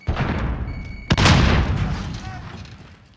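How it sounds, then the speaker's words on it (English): A grenade explodes in the Modern Warfare video game: one loud, close boom about a second in, decaying into a rumbling tail, with a voice and background gunfire around it. "Grenade out!"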